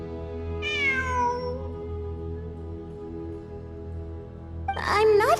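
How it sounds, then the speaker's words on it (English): A cat in the Genshin Impact video game meows twice, a longer falling meow followed after a pause by a sharper, brighter one, over a steady low in-game ambient drone. "It really is a cat."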